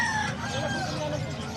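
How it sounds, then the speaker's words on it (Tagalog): Chickens at the Bocaue animal market cluck and a rooster crows, a steady mix of fowl calls over busy market chatter and crowd noise. "Ay, manok yan, boss."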